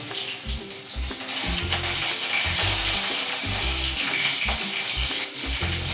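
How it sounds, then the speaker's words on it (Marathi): Green chillies frying in hot oil, a loud, dense crackling sizzle that swells after the first second and holds steady with a few stirring knocks, close up and without speech. "तेल गरम झालेलं आहे आपलं. आता याच्यामध्ये आपण टाकूया मिरची."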